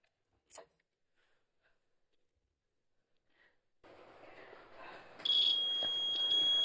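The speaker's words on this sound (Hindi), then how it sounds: "अब देखिए ये बजर भी बज रहा है" An electronic buzzer wired into a simple series or parallel circuit with an LED switches on after a quiet stretch, giving a steady high-pitched electronic tone that holds to the end over faint background hiss.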